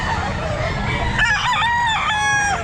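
A ten-month-old bull stag gamecock crows once, loud and close, its drawn-out call rising and wavering over the steady background din of a busy pet market.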